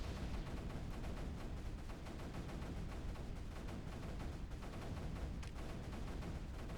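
Mortar fire in the strategy game Creeper World 3, a steady stream of quiet, rapid, crackling bursts layered into a continuous low rumble, faint and with no talking.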